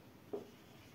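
A single quick stroke of writing on a classroom board, a faint brief scratch standing out once against quiet room tone.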